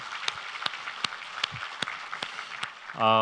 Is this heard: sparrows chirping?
no